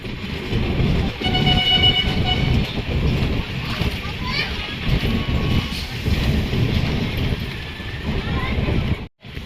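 Andhra Pradesh Express passenger train stopping at Mancherial station, rumbling wheels and carriage noise with brake squeals and a brief horn-like tone, under onboard talk, ending in a sudden cutoff.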